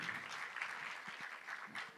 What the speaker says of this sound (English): A round of applause, everyone, for Tarini and that excerpt